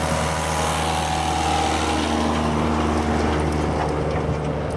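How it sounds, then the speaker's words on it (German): A John Deere tractor's engine drones steadily and loudly nearby, a continuous low mechanical hum with no speech. "Da kommt ein Trecker von John Deere."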